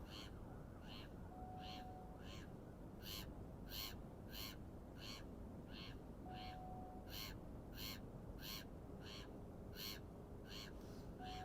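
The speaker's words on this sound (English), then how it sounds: "Even the seagull's laughing at me." Seagulls call over the misty River Mersey beside an angler fishing with worm bait, giving a steady series of repeated harsh, laughing cries at moderate distance above constant background hiss.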